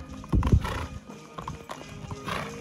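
Horses' hooves clip-clop at a patronal village festival in Las Gavias, San Luis Potosí, Mexico, with a few distinct hoof strikes up close, then softer scattered steps and a horse's whinny.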